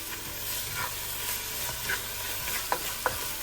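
Fennel seeds are stirred quickly into a hot cooking pan, a soft sizzle under light scraping with a few sharp clicks of the utensil toward the end, fairly quiet and close.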